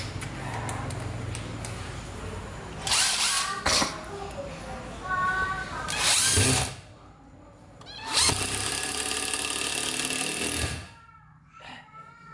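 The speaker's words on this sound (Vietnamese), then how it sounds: "Mình sẽ bắn thử cho bạn xem nha." A Japanese domestic-market cordless impact driver drives a screw in several loud bursts of whirring and rapid hammering, with brief pauses between runs and quieter stretches at the start and end.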